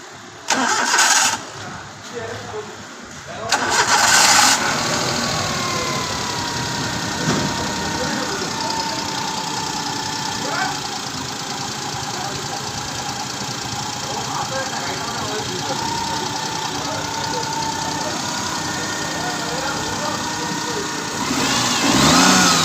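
An engine cranks and catches after a few seconds, then keeps running at a steady mid-pitched idle, loud and close, with brief voices early on.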